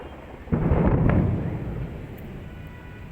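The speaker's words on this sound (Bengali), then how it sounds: "মেঘে মেঘে ঘর্ষণ চলতেছে" A single deep roll of thunder rumbles through a gathering storm, striking with a sudden low boom and then fading slowly over the next two seconds, alone with no talk.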